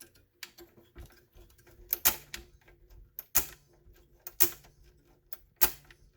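A Lathem time clock, its punch section losing time and freshly sprayed with WD-40, clacks through a run of sharp mechanical punches, about five solid strikes spaced roughly a second apart over a quiet ticking mechanism.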